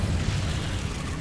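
An Incendio fire spell bursts in a Harry Potter video game as a dense, roaring whoosh of flame, loud and sustained with heavy low rumble throughout.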